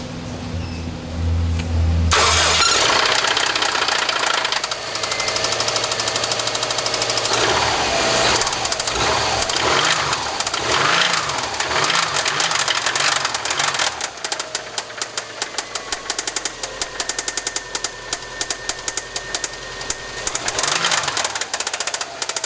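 A Subaru WRX wagon engine, in need of replacement, cranks and catches, then runs loud and rough with uneven knocking and rattling, revving up and down close by for a long stretch.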